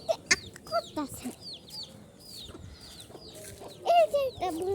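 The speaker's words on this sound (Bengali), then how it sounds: "এই যে একটা মুরগির বাচ্চা পাইছি।" A baby chick cheeps in thin, high chirps, some single and some in quick clusters, fairly close, over a faint background.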